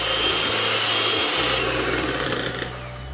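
An electric beater whirs steadily and close while mixing cake batter with baking powder, a continuous motorized buzz that shifts pitch slightly about a third of the way through.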